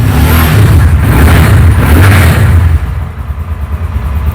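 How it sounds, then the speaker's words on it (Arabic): A Hojan Evo 200 motorcycle engine runs close by with a steady, fairly quiet low rumble, swelling slightly as it revs, then settling to a lighter idle over the last second or so. "خلينا نكمل الفيديو للاخر وندور الموتوسيكل ونسمع صوته مع بعض"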